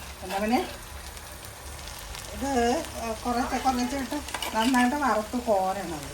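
Fish coated in chili powder, turmeric and salt sizzles steadily as it fries in a pan, with occasional stirring, while people talk over it.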